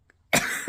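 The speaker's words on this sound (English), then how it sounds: "What if I'm constantly coughing though and I can't get rid of" A single harsh cough bursts out close up after a brief silence, from someone suffering a persistent cough that worsens at night.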